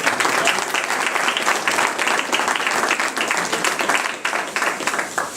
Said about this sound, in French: je crois qu'on peut avoir tous applaudir ensemble, parce qu'on travaille ensemble